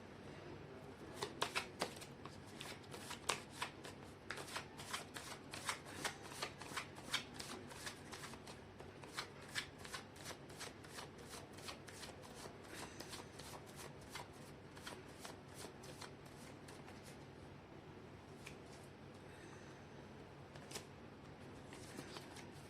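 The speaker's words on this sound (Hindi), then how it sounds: "मैं कर लेती हूँ कार्ड की शफलिंग" A deck of tarot cards is riffle-shuffled up close, making a long run of rapid, crisp flutters and snaps that keep a fairly even rhythm throughout, faint overall and heard without talk.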